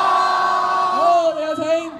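At the 2015 Macau International Toy and Game Expo, an audience shouts together to call Dage onto the stage, a drawn-out yell from many voices lasting about two seconds.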